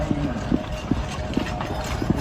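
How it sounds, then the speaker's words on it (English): Draft horses at a draft horse show clip-clop past, their hooves striking in an uneven, repeated rhythm over a steady crowd murmur of background voices. "we tried to leave a couple clips of the horses riding by with their sounds"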